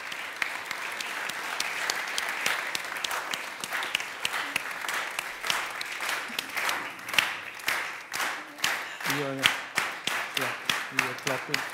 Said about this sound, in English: So one big applause for the whole week.